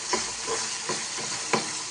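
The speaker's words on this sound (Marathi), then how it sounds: "कांदा आणि टोमॅटो असा एकजीव करून घेऊ, परतून घेऊ." Onion and tomato with a pinch of salt are stirred and fried in a pan, the spoon scraping in regular strokes about every half second over a steady, close sizzle.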